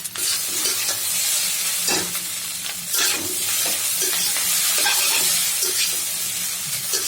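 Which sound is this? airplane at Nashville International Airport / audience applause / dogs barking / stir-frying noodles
stir-frying noodles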